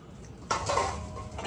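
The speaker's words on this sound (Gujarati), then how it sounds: "વાસણનો વારો આવી ગયો છે વાસણ લેવાના છે" Cooking vessels and utensils are picked up in a village kitchen, giving one sudden clatter of metal pots and utensils partway through, then a softer rattling tail over quiet background.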